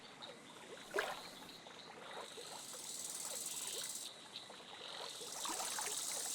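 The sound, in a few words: water splash sound design, ducks popping out of water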